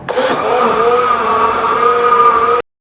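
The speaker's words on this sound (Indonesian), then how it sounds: "Sekarang kita blender, teman-teman." A kitchen blender whirs steadily while mixing a milk coffee drink of cold milk and creamer, starting with a brief rough surge and then settling into a loud, even motor hum with a high whine that cuts off abruptly.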